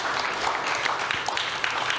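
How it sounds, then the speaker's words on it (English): Audience applause at a film conversation about the documentary on farming while Black, held during Sundance 2025; a soft, steady wash of many hands clapping, somewhat distant and even throughout. "Round of applause for Lynn, please, and everything she's done."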